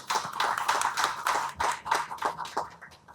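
Audience clapping at an Italian book presentation event, a modest round of distinct handclaps from a small crowd, close and uneven, with no talk over it.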